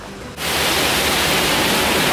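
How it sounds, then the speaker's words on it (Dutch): A waterfall pours down on an Efteling water ride, surging in after a brief quiet moment into a loud, steady, close rushing roar that fills the rest of the clip. "En daar komt een waterval."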